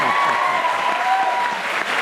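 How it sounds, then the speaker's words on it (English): An audience claps in a steady, full burst of applause that carries through without pause, with no voices over it. "That deserves some applause, I think,"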